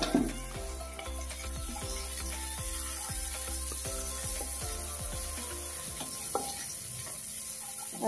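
Tomato, chili sauce, soy sauce and vegetables frying in hot oil in a pan for a chicken wrap, a steady soft sizzle with a regular series of scraping stirring strokes, close and continuous, no talking.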